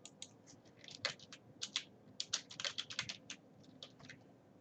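Computer keyboard clicking as code is typed during a flexbox web tutorial, quiet rapid keystrokes in uneven bursts with brief pauses, close and without voices.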